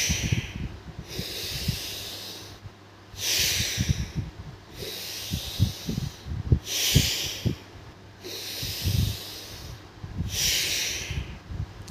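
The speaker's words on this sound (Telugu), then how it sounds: "చక్కగా ముక్కుతోటే మనం గాలిని తీసుకోవాలి, ముక్కుతోటే బ్రీత్ అవుట్ చేయాలి" Slow, deep yoga breaths drawn in and pushed out through the nose, each inhale and exhale a loud, close airy rush, repeating in a steady rhythm about five times with no talk.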